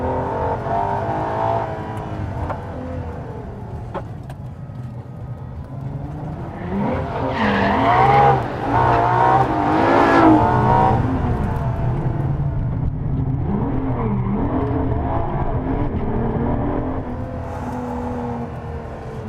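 A Ferrari LaFerrari driven hard through road hairpins, its engine revving and shifting pitch, swelling to a loud peak midway with hints of tire squeal, then easing back.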